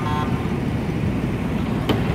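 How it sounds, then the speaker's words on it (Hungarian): A Chinese tourist group boat sounds its horn from behind on Tonle Sap near a Vietnamese floating village. The horn gives a brief harmonic toot at the start, over a steady roar of boat engine and water. "Le vagyunk dudálva, mert a mögöttünk lévő kínai turista csoportos hajó az most utolért minket."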